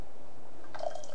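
Water is poured from a ladle during a Mushakojisenke-style tea ceremony, a soft brief splash and trickle arriving after a quiet moment.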